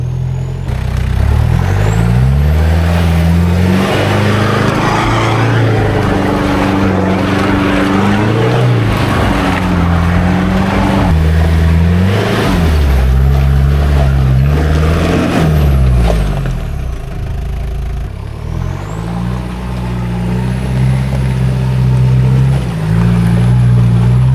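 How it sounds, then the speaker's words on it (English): A Toyota Hilux 4WD on a smaller lift and smaller tyres revs hard climbing a steep Victorian High Country track, its loud engine rising and falling repeatedly for about twenty-four seconds with no talk. "Smaller lift, smaller tyres, but with a bit of right foot, Billy's got this."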